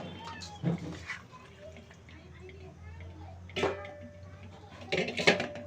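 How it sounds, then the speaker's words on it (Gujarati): Washed, cleaned chicken pieces go into a metal cooking pot, with a few sharp clattering knocks of metal and pieces landing, spaced out over a quiet kitchen background while someone talks. "હવે આપણે ચિકનને નાખી દઈશું આપણે તપેલીમાં"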